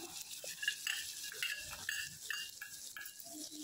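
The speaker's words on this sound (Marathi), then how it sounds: "याच्यामध्येच मी आता ड्रायफ्रूट्स टाकते आणि तेही छान तळून घ्यायचे आहेत आपल्याला." Dry fruits fry in a pan, likely in ghee, for traditional prasad sheera, crackling and sizzling softly with light scraping stirs and small clinks.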